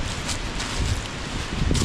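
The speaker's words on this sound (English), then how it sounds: "now I have the wind." Wind gusts across open parkland at Kaercher Creek Park in Hamburg, Pennsylvania, a steady low rushing buffeting the microphone with brief rustling swells.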